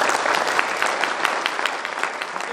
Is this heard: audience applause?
yes